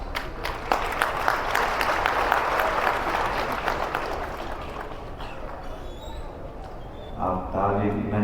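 A crowd claps steadily for several seconds at a talk by a Sri Lankan Buddhist monk in Bihar, the applause thinning toward the end as a voice begins speaking over it.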